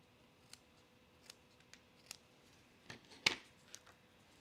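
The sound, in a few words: cutting paper edges with scissors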